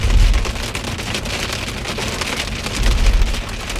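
Small hailstones of about 3-4 millimeters fall during a storm near Calgary, Alberta, making a dense, steady pattering roar like heavy rain on a surface, with low rumbling swells underneath and no talking.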